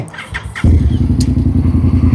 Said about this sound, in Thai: ท่อนี่เสียงแบบไม่ลั่นมากนะ